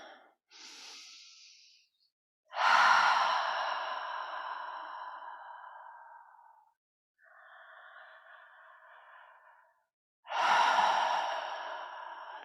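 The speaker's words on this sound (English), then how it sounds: "Some deep breaths." Slow, deep breaths during a yoga pose: a short inhale, then a long audible exhale, another softer breath, and a final strong breath, close and clear in a quiet room with no talking.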